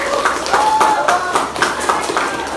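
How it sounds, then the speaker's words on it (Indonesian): Students in a classroom clap for classmates who have just presented, a steady crowd of close hand claps with faint voices mixed in. "Kasih tepuk tangan dulu dong buat yang udah maju"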